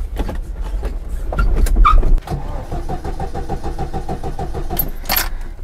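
Car engine cranking with keys rattling, then catching and settling into a steady, rhythmic idle close by.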